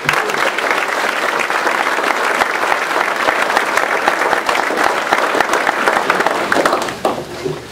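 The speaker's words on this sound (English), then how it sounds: "I'd like everybody to give another round of applause to the other award recipients." Sustained, loud audience applause at a police awards ceremony, dense even clapping from a large crowd lasting several seconds before tapering off near the end.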